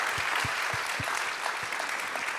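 Steady audience applause at the closing ceremony of a startup competition, a broad, even roar of many hands clapping in a hall, with a few heavier thumps standing out near the start.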